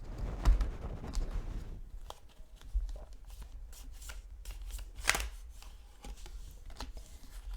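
Oracle cards being shuffled by hand, a soft papery riffle and rustle up close for several seconds with brief taps and flicks, fairly quiet and without talk.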